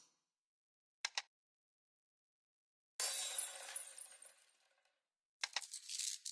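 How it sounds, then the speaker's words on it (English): A glass vial smashing in a video game: a short double clink, then a loud shattering burst that trails off over a couple of seconds, followed by another bright crash of breaking glass. "When I was waking up, I faintly heard the vial smashing, much like Hiroshi and Shiraki-san."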